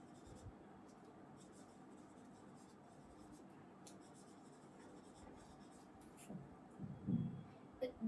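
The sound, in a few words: writing notes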